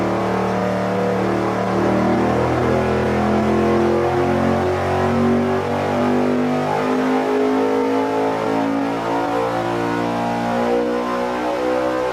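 A junkyard V8 fitted with a 90-millimeter throttle body runs at steady high revs on a dyno, a loud, dense engine drone with sustained harmonic tones that dip slightly and then hold for the full length, alone without talk.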